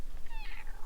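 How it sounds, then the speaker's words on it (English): A house cat meows once, a short rising-falling call close by, heard alone in a quiet room. "Was that cat for adios"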